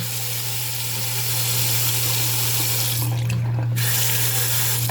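Water runs steadily from a newly installed bathroom faucet into the sink, a loud, continuous close-up rush with a constant tonal hum underneath and no talking.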